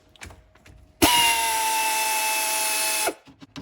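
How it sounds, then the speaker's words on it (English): Pneumatic air tool working on engine bolts on a Zongshen Z190/Z212 motorcycle engine, a loud, sustained whirring burst of about two seconds with a steady high whine, preceded and followed by quiet clicks and handling noises. "I'm using air tools just to speed things up for the video."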